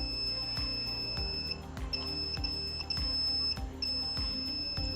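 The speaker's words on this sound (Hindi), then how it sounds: "ये जो बजर है, आवाज आ रहा है बच्चों आपको?" An Arduino buzzer sounds as a hand approaches its proximity sensor during a children's classroom electronics demo. It gives a loud, steady, high-pitched electronic tone with brief breaks, over scattered knocks and handling noises.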